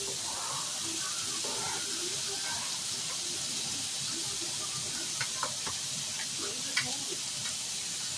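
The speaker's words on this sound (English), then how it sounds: "I'm going to go ahead and add the onions to the bacon." Chopped onions hit a pan of frying bacon, raising a steady, fairly loud sizzling hiss that holds throughout, with a few sharp crackles and pops near the end.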